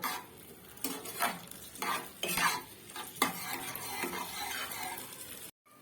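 Chilli paneer sauce with a little water added comes to a boil in a pan, a close bubbling sizzle punctuated by several sharp scrapes and clinks of a spoon stirring, ending in a brief cut to silence.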